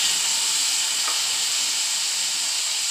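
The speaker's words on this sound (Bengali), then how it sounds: "কড়াইতে এক কাপ জল দিয়ে দিলাম" A cup of water hits a hot wok after frying, giving a loud, steady sizzling hiss that holds unbroken throughout.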